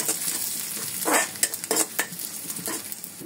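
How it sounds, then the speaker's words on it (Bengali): Small dried shrimp fry in a pan with a steady sizzle, broken by a few sharp scraping strokes of a spatula against the metal, close and clear with no talking. "এখন চিংড়ি শুটকি দিব, ছোট চিংড়ি শুটকি"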